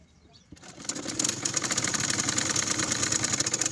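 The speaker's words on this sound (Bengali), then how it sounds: "তো এখন আমি হাইটা সেলাই করে নিচ্ছি।" Sewing machine running continuously as it double-stitches the waistband of a pair of pajamas, a steady mechanical whir that starts after a brief pause and holds at an even level throughout.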